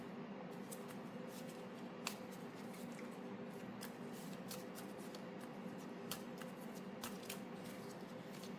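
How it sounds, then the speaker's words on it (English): A deck of cards is shuffled at a tabletop board game, producing quiet, repeated riffling and flicking sounds over a low steady background hum. "I shuffle the deck."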